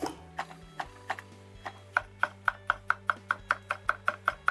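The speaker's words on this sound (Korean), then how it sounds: "써는 것은 이제 잘잘하게 썰어 주세요." A knife finely chops half a yellow and half a red bell pepper on a cutting board, sharp evenly spaced taps speeding into a steady rhythm of about two per second, close and clear over a low steady hum.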